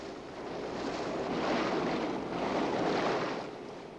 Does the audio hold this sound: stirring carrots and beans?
no